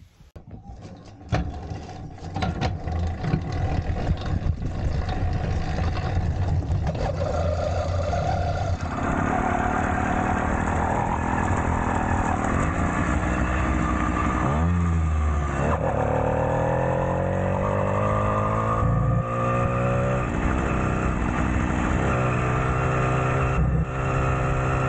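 Small motorized bicycle engine running continuously on a country road ride, a loud, buzzy drone that rises and falls as the throttle changes, close to the microphone throughout.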